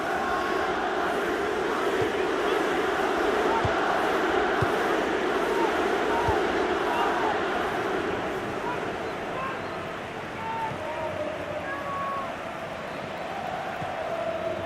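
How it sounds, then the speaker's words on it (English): Stadium crowd in the football video game FIFA 17 at the Santiago Bernabeu, a dense continuous roar and murmur that swells early then eases slightly, steady ambient noise filling the whole stretch. "Crowd settling back down here in the Santiago Bernabeu stadium."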